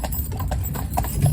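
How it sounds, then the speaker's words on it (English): Hooves of a young heavy cob stallion in harness clip-clop in a quick, close sequence of sharp knocks, several steps over a short stretch with no speech. "He's a stallion horse"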